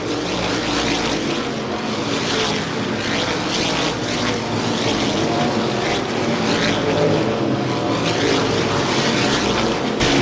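A pack of stock cars races at the 1988 ISMA Star Classic 200-lap event, a dense, continuous roar of engines with faint surging as cars pass, steady and loud with no break.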